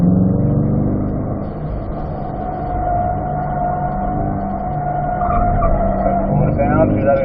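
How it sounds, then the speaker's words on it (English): A C8 Corvette on the Spring Mountain track, engine droning steadily and rising under load as it accelerates, with an instructor talking throughout over the cabin noise. "Let's accelerate out every time we get that wheel straight."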